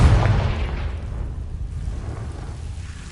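Confringo blasting spell in the Hogwarts Legacy video game: a loud, close explosive boom opens, then fades into a long rumbling tail that slowly dies away.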